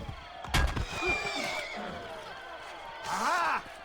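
A horse in the video game Assassin's Creed Brotherhood whinnies loudly twice, a wavering neigh near the start and another near the end, over a steady game background with a thud early on.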